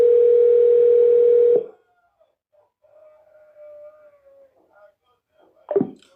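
A telephone dial tone during a call holds loud and steady for about a second and a half, then cuts off, leaving faint murmurs and a brief knock near the end.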